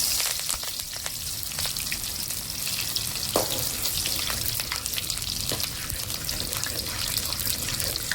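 Garlic and green chilies sizzle steadily in hot oil, a loud, close, continuous crackle with scattered sharper pops and no voices.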